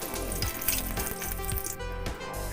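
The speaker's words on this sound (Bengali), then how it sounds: "এইটা ভাজার পরে আমি আরেকবার ভেজে নিচ্ছি।" Drumstick flower pakoras fry in hot oil, a steady close sizzle and crackle with faint scraping that runs throughout and has no talk over it.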